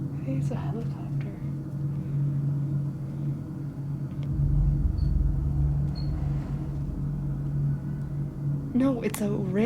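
A distant train rumbles as a steady, low drone that lasts the whole time outside an old abandoned railroad hospital. Voices talk faintly over it near the end.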